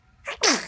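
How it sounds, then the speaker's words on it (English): A single quick sneeze, close and sharp: a brief intake followed by a bursting hiss that fades fast. "Oh, that was a sneeze."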